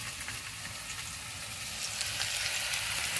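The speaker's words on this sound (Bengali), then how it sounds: "দেখো পেঁয়াজটা ভাজা ভাজা হয়ে এসেছে প্রায়" Steady, close sizzling of onions frying in a pan, a continuous crackle with no talking.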